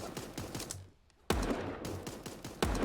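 Rapid bursts of gunfire from a Super Animal Royale match, sharp cracking shots in quick clusters, a short pause, then loud reports resuming close up, with no voices.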